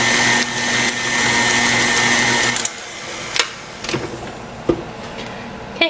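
An electric mixer whirs loudly and steadily for nearly three seconds while mixing lemon glaze for blueberry muffins, then cuts off, leaving scattered clinks and knocks.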